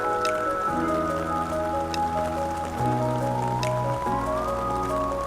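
Rain falls steadily across Namo Garden, a continuous soft wash under prominent melodic music playing through the scene, with no voices.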